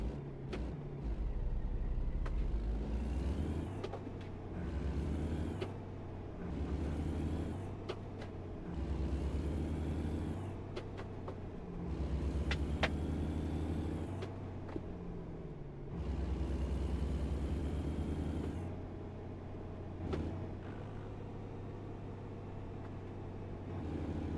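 A Kenworth K100E in American Truck Simulator revs through repeated gear changes, each rising engine whine cutting off and starting again over a steady low diesel rumble, loud and close, with no talking.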